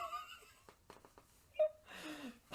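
Faint, labored wheezing breaths from a person in a dark drama scene, a few strained rasping inhales and exhales with a brief squeaky catch, quiet and close with light vocal noises between.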